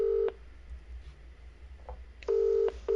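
Telephone call to a racing driver after a GT1 race at Fuji that goes unanswered: a loud ringback tone repeats in long steady bursts with quieter gaps between, alone and close.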